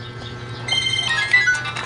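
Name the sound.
phone ringtone of an incoming call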